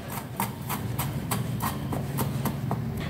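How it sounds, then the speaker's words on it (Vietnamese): A knife chops rapidly on a cutting board, mincing ginger in a home kitchen, a steady run of sharp close taps. "Gừng các bạn cũng băm nhỏ ra cho mình."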